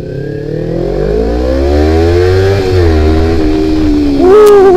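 Kawasaki Ninja 250 motorcycle on a test ride, its engine rising loudly in pitch through the revs, easing briefly, then climbing again with a sharp upshift near the end, close and continuous with no talk.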